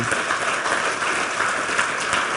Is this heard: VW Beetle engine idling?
no